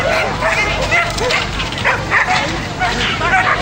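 Dogs from a display team bark and yip at a Tredegar House dog show event, with repeated sharp barks and whimpers over busy outdoor crowd noise and voices.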